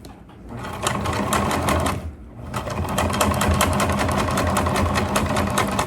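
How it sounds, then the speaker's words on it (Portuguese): A sewing machine stitches transparent crystal plastic for a backpack at its longest stitch length, running in a fast, loud, even mechanical patter that pauses briefly for a short reverse stitch, then resumes steadily up close. "Então, não começo a costurar bem do início, não."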